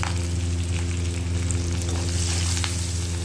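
Spices and a little turmeric frying in hot oil, a loud continuous crackling sizzle held close throughout with a low steady hum underneath.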